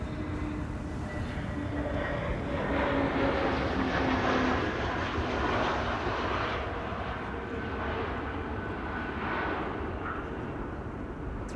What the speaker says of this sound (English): Transavia arriving from Samos. That's the A321neo.